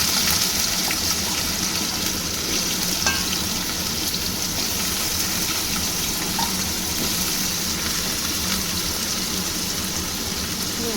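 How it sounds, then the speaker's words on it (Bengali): Salted potatoes frying in hot oil in a wok, with a loud, even, continuous sizzle and crackle close by, holding steady with only small spits and stirring clicks. "আলুটা একটু লাল করে ভেজে নেব"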